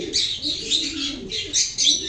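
Rajshahi colour-missing pigeons coo and chirp close by in short, repeated bursts, a few soft calls rising and falling over about two seconds with no speech.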